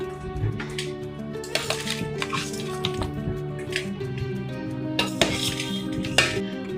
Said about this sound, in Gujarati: કાણાવાળું વાસણ લઈ અને એમાં આ કેરી કાઢી લેશું